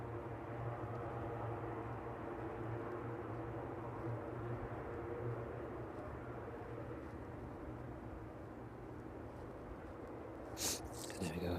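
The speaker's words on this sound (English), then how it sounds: "Just taxiing in towards the maintenance sheds here in East Midlands." A cargo aircraft taxis in towards the maintenance sheds at East Midlands Airport on a chilly evening, making a steady, distant jet-engine rumble and whine with no talk.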